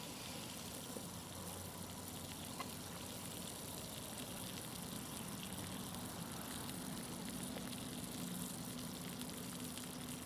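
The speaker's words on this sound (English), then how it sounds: "we've just about got a rolling boil" Water at a rolling boil on a Zelph Venom Super Stove, a steady, dense bubbling hiss that holds evenly at low level throughout, with no voices.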